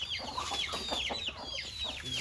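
Hens at a homestead coop cluck and chatter in overlapping bursts, a busy, fairly close flock sound with no talking.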